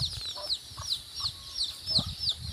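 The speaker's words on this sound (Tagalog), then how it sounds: "Ayan na, maingay ang mga manok." Chickens cluck and squawk in short repeated calls close by, a busy irregular rhythm of clucks over faint background, with no talking.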